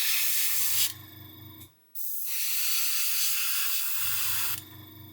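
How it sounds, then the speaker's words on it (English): An airbrush spraying fine amounts of paint hisses in two long steady bursts, separated by a brief pause, with a low mechanical buzz from the compressor running between them. "it's extremely good at spraying very fine amounts of paint"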